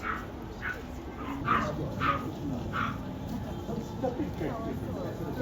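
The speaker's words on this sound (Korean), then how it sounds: "귀여운 애기들 있어. 어, 귀여워. 일본 강아지입니다." A small Japanese dog barks in a quick run of sharp, high yaps, about six in a row, fairly close, with people's voices in the background.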